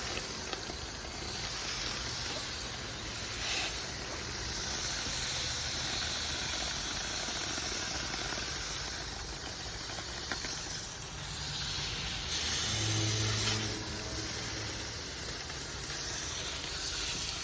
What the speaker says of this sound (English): hose out all the debris from here, from the fins. Time to run the hose